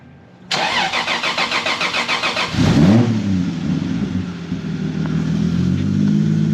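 A car engine cranks with a rapid rhythmic whirring for a couple of seconds, catches with a roar, then settles into a steady idle.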